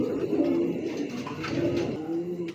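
A pair of large racing pigeons at a pigeon farm coos in low, rolling throaty calls, close and fairly loud, repeating steadily throughout with no talking.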